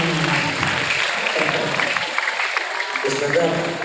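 Audience applause at a family gathering hosted by an MC, a steady spatter of clapping heard fairly close, with voices talking and murmuring over it throughout.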